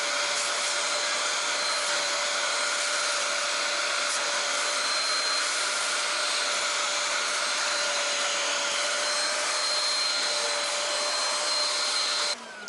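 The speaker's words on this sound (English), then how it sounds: "This little Bissell Spot Clean to do floor mats is just superb." A Bissell Spot Clean extractor working on a car floor mat in a Mustang GT California Special, giving a loud, steady whining motor drone with constant suction that continues unbroken for several seconds before cutting off abruptly at the end.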